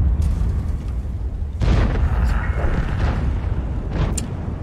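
Inside a Wargaming tank battle, a shell lobbed around a building slams into the tank with a deep boom, followed by a rumbling tail, while voices talk over it.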